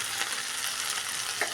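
Steady, loud sizzling of okra frying in hot oil, a dense crackling hiss that continues throughout.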